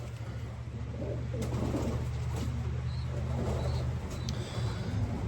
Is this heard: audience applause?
no